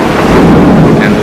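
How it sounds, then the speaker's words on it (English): Extremely heavy rainfall pours down in a steady, dense roar during a very loud thunderstorm, with low rumbling thunder rolling underneath throughout. "Extremely heavy rainfall and very loud thunderstorm"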